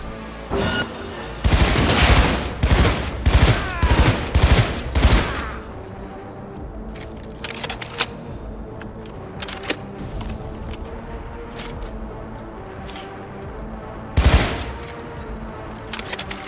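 Cyberpunk 2077 video game gunfire: a dense burst of rapid automatic shots up front, then scattered single shots and another sharp burst later over a steady game background, with no speech.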